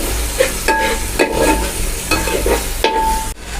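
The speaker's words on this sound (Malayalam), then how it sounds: "നല്ലോണം നിറച്ചൊന്ന് മിക്സ് ആക്കാം." Spoon stirring a tapioca masala mixture in a cooking pan for tapioca puttu, with repeated close scraping strokes in a steady rhythm over a continuous low sizzle, no voices.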